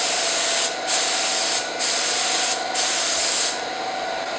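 Harbor Freight purple HVLP spray gun spraying Benjamin Moore Advance paint in four loud, close, sustained hissing bursts separated by brief pauses, with no voices.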